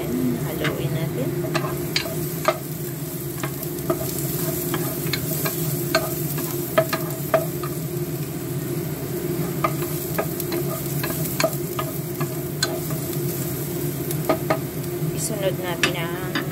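Thai chicken curry is stirred in a pan, with a utensil making scattered scraping clicks and taps over a continuous low sizzle, a voice speaking intermittently beneath.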